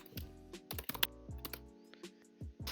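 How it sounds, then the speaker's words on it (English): Someone types on a computer keyboard in quick, irregular bursts of sharp close-up clicks, with short gaps between keystrokes. "Who the hell is typing the keyboard like that?"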